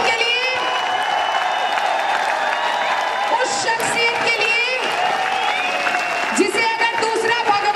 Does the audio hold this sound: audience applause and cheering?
yes